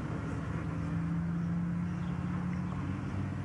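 Distant traffic around Dogwood Harbor forms a low, steady rumble and hum heard from an outdoor lawn, continuous and fairly faint with no talking over it.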